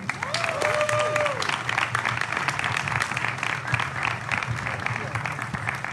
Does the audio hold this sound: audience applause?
yes